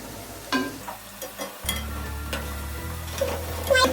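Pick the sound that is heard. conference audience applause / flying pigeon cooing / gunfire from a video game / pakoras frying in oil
pakoras frying in oil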